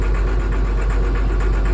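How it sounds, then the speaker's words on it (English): Tractor engine running steadily while driving along a beach toward Caister Point, a constant low mid-range drone with slight rhythmic pulsing and no talk. "I'm going to bump the tractor up a gear and get a wiggle on"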